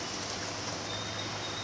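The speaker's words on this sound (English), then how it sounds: "we'll see that it's raining and it's kind of cloudy." Spring rain falls outdoors in a cloudy forest, a steady, even hiss of drops with no other sounds standing out.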